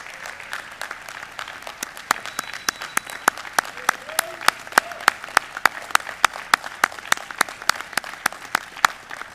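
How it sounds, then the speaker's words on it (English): Audience applauding awardees at an awards program for a grand chapter meeting, steady crowd clapping with sharp individual claps standing out, sustained and fairly loud throughout. "Let's give one more loud round of applause for all of our awardees"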